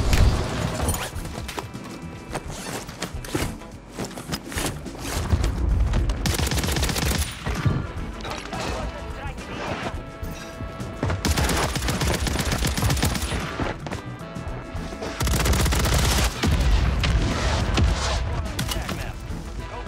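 Call of Duty: Warzone battle with rapid gunfire bursts and heavy mortar impacts, loud, dense and continuous, with players talking over the chaos.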